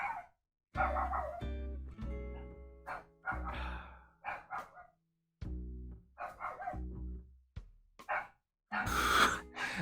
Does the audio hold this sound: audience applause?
no